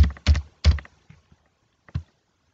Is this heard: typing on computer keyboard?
yes